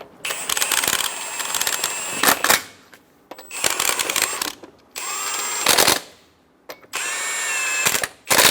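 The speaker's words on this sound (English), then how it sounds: "Snug the lug nuts down." Bursts of ratchet clicking and whirring as truck wheel lug nuts are snugged down on a 2014-2018 Chevrolet Silverado 1500 during a front brake job, four loud close passes separated by short pauses.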